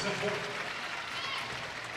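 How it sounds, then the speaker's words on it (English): Cliff Keen Arena crowd at a Michigan volleyball match against Rutgers, rising to its feet as Michigan nears taking the second set: a broad, even wash of cheering and applause that holds steady throughout. "The Cliff Keen Arena crowd rises to their feet"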